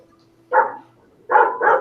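Dogs bark close by and loud: one short bark, a pause, then two quick barks in a row against an otherwise quiet background.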